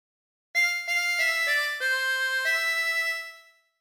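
A 24-hole tremolo harmonica plays a short melodic phrase of Ampar Ampar Pisang, a few wavering sustained notes stepping through the tune, clear and solo with no voice.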